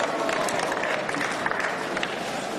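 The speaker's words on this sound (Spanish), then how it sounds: "Aplausos en el Parlamento Europeo al anunciar los resultados de la votación" Applause fills the European Parliament chamber after a vote result is announced, a dense, steady patter of many hands clapping with crowd murmur, moderately loud and sustained.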